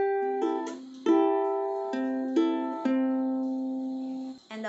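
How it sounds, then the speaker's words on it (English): Fingerpicked ukulele pattern, thumb on the fourth string, index on the third, then the top two strings plucked together, repeating in clear, evenly spaced bright notes that ring and decay, close up and unaccompanied. "pluck the number 4 string using our thumb, number 3 string using our index finger, and then we will pluck the 2 and 1 together"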